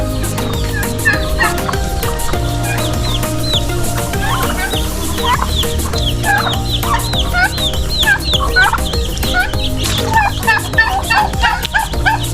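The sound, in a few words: chickens clucking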